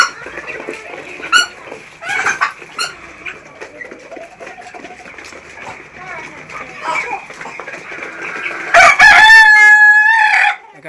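Native chickens cluck and murmur over a busy background of people talking at a poultry market, then a rooster crows loudly and close near the end.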